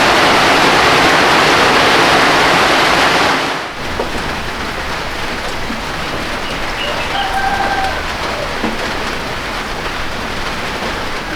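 Heavy midnight rainstorm pounding a thatch and corrugated tin roof during the rainy season at Sipi Falls, Uganda: a loud, dense roar of rain for the first few seconds, then a steadier, softer hiss with scattered drops and faint bird-like chirps.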